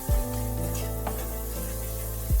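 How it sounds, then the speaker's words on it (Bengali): Ground coriander and Kashmiri chili powder frying in hot oil, a steady, close sizzling hiss with a low hum underneath and a couple of brief knocks of stirring. "এবার সমস্ত মশলা ভালোভাবে কষাতে হবে।"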